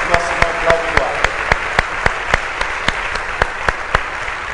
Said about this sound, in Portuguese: Pode aplaudir o Senhor Jesus neste momento.